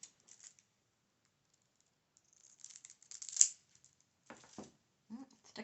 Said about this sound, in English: So what I'm going to do now is I'm going to cut these out.